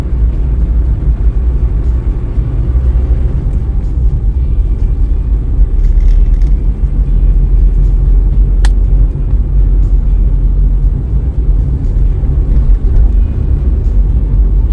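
Steady, loud rumble of vehicle traffic crossing the Osmeña Bridge, a continuous low engine and tire roar filling the whole stretch with no pauses.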